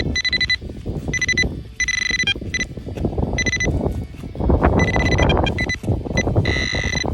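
Repeated high electronic beeping tones of a metal detector in short bursts over crunching, scraping sounds of digging in soil nearby.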